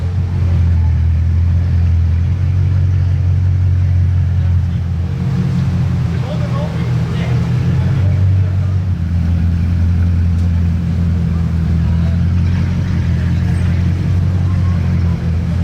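A Bugatti Divo supercar in Monaco gives off a deep, steady, resonant engine drone that stays loud and close throughout, with people talking over it at times.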